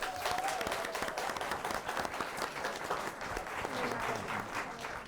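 Steady, dense applause from a school quiz bowl audience in Arkansas fills the hall for several seconds, loud and continuous, with a faint voice briefly audible underneath.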